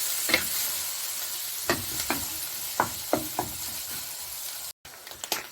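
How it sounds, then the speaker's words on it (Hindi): Minced meat fries in a pan under a steady close sizzle, with occasional spoon taps and scrapes against the pan breaking through at irregular intervals, no talk. "थोड़ी देर भून लेंगे, 5 से 7 मिनट।"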